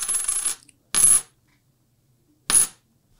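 Silver quarters drop onto a hard surface in three separate bursts of bright metallic clinking, each brief and close, with silence between.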